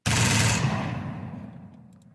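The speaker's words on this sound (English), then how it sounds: "Machine gun." Machine gun fire from a free stock sound effect: a loud, dense burst of rapid shots right at the start, then a long decaying echo tail trailing off over about two seconds, with no voices.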